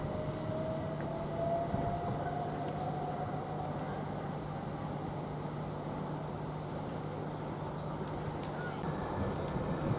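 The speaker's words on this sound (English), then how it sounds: "We'll get more of the train when it departs." Passenger train pulling out of Ely railway station, a steady low rumble and hum throughout with a faint rising whine, heard from the platform at moderate distance.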